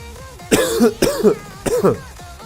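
A person coughs three times in short, close bursts during a gaming livestream, each cough harsh and throaty with quiet background between them.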